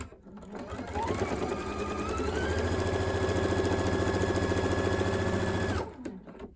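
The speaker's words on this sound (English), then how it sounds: "And now I'll just continue stitching my binding down around my quilt." A domestic sewing machine stitches quilt binding down around the edge of a quilt, its motor ramping up and then running in a steady, close, fast whirring rhythm for several seconds before stopping, alone without talk.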